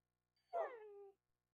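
A domestic cat gives a single clear meow of about half a second, rising then falling in pitch, close to the microphone in an otherwise quiet room.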